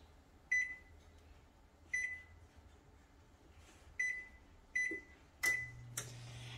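An oven's control panel beeps five times while being set to preheat to 350 degrees: short, clean electronic tones spaced irregularly, fairly quiet in a calm kitchen with no talking.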